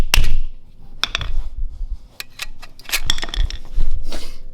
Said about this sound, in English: if I grab a screwdriver and tap on it just a tiny bit,